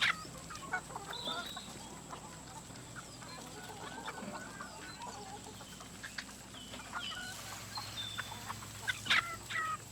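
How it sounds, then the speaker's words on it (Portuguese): Laying hens cluck steadily inside an organic henhouse in Brazil, with overlapping clucks and short calls from several birds at moderate distance, continuous throughout. "Eu produzo galinha de postura, né?"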